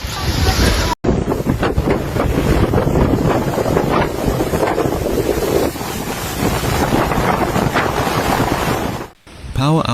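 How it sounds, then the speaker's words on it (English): Powerful typhoon Kong-Rey winds in Taiwan roar in a dense, continuous rush with heavy buffeting against the microphone. A brief dropout comes near the start and another near the end, and no voices are heard. "The typhoon brought sustained winds of 126 miles per hour"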